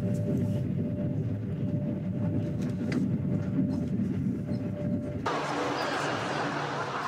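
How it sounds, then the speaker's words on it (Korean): A passenger train carries travelers from Kunming deeper into Yunnan, its steady, loud rolling rumble continuing throughout, with the character of the noise shifting abruptly near the end. "첫 목적지까지는 기차를 타고 다시 4시간을 더 들어가야 한다."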